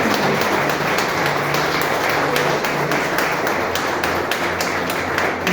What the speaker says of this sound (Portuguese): Receba a pastora Michele com as palmas que glorificam o nome de